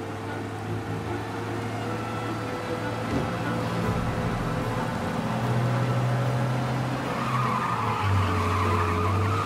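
Car driven fast in the video game Mafia: Definitive Edition, a steady loud engine drone with tyres skidding and squealing throughout, continuous with no talk.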